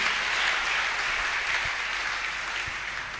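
A church congregation applauds loudly during a healing service, a dense, steady wash of clapping from many hands that holds at a constant level with no voices over it.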